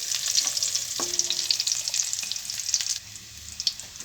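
Turmeric and asafoetida tempering for a tamarind and fenugreek-leaf chutney, crackling and sizzling steadily in hot oil with a few sharp pops and a brief clink at the pan, quieter toward the end.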